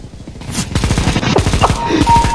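Rapid bursts of SMG gunfire in a Christmas snowball video game, loud and dense, overlapping with music-like tonal lines and brief voice sounds.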